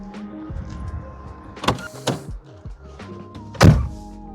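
Someone climbs into a Vauxhall Astra in the rain with a few interior thumps and clunks, then the door shuts with a loud solid slam near the end.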